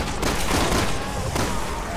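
Enemy gunfire in Resident Evil 6, a rapid burst of loud shots and booms packed into a short spell, dense and close with no clear speech over it.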